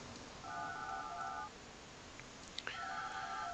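Phone lines placed in the building game Project Highrise, giving two synthetic two-tone telephone chimes about a second long each, separated by a short gap with a soft click, over a steady low background hum.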